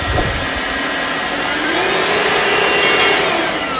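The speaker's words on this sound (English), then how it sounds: "This vacuum cleaner is definitely very powerful" A Black+Decker cordless vacuum runs steadily and loudly up close, a high whining hum with a faint rising pitch and no speech.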